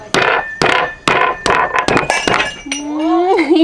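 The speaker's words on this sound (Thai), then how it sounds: "แก้วแตก" Glass breaking, a burst of sharp clinking crashes in quick succession close by, followed by a voice exclaiming.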